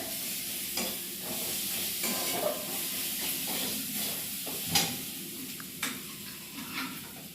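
Boiled lentils meet a hot spiced tempering for a tarka dal. The pan gives a soft, steady sizzle with occasional stirring scrapes and clinks of the spoon, faint and close, with no talking.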